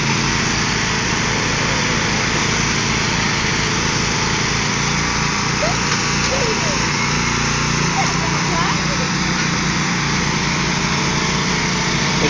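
Riding lawn mower engines strain in a backyard tractor pull, a steady loud small-engine drone running throughout with a voice talking over it.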